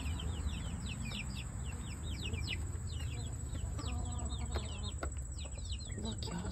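Quail chicks cheep and cluck constantly and loudly in a busy chorus at an empty food bucket, over a steady high-pitched whine and low rumble.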